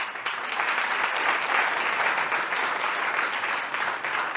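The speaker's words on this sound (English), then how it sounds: "let's all shout them out by clapping" An audience claps warmly at a corporate event address, a thick, continuous wash of applause holding roughly steady for several seconds.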